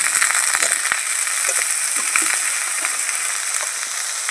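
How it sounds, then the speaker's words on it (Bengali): Eggplant and vegetables frying in a pan, a continuous close sizzle broken by a few sharp pops and the scrape of stirring near the start. "একটু ভাজা ভাজা করে নিই।"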